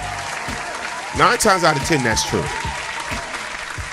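A studio group clapping, a steady patter of many hands that continues behind a man's speech, close and moderately loud.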